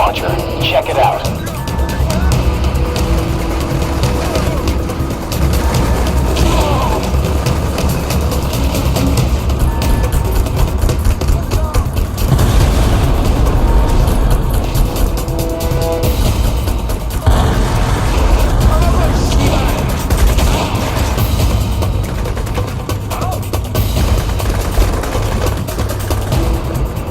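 Explosions and gunfire from an EMP grenade launcher in the video game Crysis Warhead, a dense, loud battle din of booms and shots running continuously under game voices.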